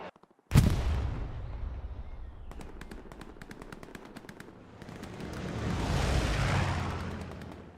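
Distant gunfire crackles through a World War II battlefield in Hell Let Loose, a loud opening blast followed by a rapid string of machine-gun shots, then a swelling rumble of explosions.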